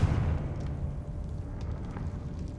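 A Confringo blasting spell going off in the wizarding video game Hogwarts Legacy, a rumbling low explosion that starts loud and decays into a crackling, rolling tail with a few faint pops.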